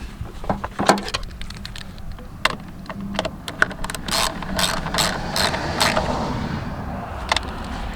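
Ratcheting and mechanical clicking while the air filter housing on a 2004 Honda Odyssey is tightened, close, with irregular sharp clicks and short bursts of rattling across several seconds.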